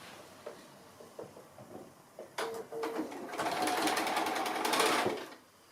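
A sewing machine stitches the curved seam of a fabric Christmas basket, with a few light taps, then a steady close whirring burst of rapid stitching lasting about three seconds before stopping.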